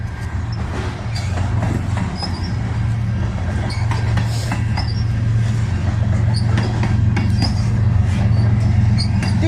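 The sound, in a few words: freight train passing with ES44DC locomotive and DPU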